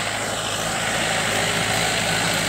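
Mahindra 475 DI tractor engine running on a farm field, a loud, steady droning rumble with constant low hum that holds unbroken throughout, no voices.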